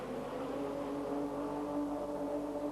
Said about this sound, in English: You can hear Tukinen having problem getting the power down